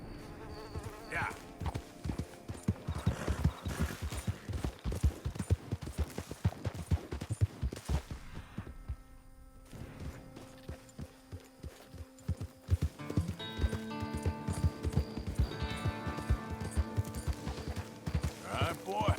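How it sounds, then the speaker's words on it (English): Horse hooves clip-clop at a steady pace in Red Dead Redemption 2 while a rider slows near a buck, the rhythmic thuds fairly close and mixed with ambient game sounds and occasional music. "That's a horse."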